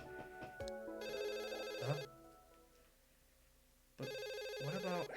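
A telephone rings in the video game Another Code R in two loud electronic bursts separated by a quiet gap, with a brief murmured voice before the first ring.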